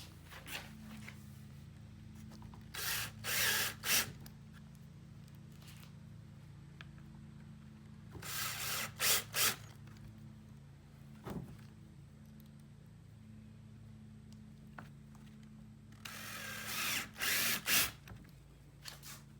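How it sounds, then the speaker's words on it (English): A power drill drives 1 1/4 inch deck screws into wood in three separate bursts, each a short whirring run with brief stops, fairly close and clear against quiet surroundings. "I'm just taking 1 1/4 inch deck screws."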